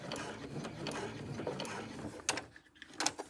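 A domestic sewing machine stitches slowly through many thick fabric layers of a tote bag, a faint, steady mechanical clatter that ends in a few sharper clicks.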